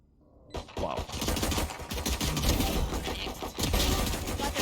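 Gunfire in the tactical shooter Valorant during a competitive round: after a quiet moment, dense rapid shots and clattering bursts start suddenly and continue loud and steady, layered with game effects.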